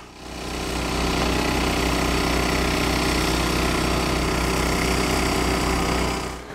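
A small engine on an ice auger or pump runs loud and close on a frozen lake, a steady rapid chugging idle that holds constant and then fades slightly at the end.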